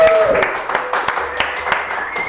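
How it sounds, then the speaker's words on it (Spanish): Scattered hand claps ring out over a short musical jingle, a handful of distinct claps rather than a full crowd. "¡Aplausos, por favor!"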